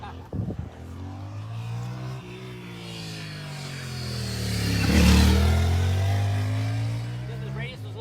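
Motorcycle on the NJMP racetrack during a riding school session, engine droning steadily after the throttle is held shut, then swelling loudly as it accelerates past nearby, with the pitch sliding and a brief clatter at the start.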